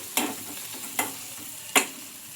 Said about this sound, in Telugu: ఇంకా ఈ గరం మసాలా కూడా వేసుకొని ఒకసారి మొత్తం ఇలా బాగా కలుపుకుందాం